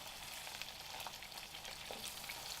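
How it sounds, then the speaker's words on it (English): Fish shallow frying in oil in a pot, a soft, steady crackling sizzle with scattered pops and spits, fairly quiet and uninterrupted. "We are just going to shallow fry them."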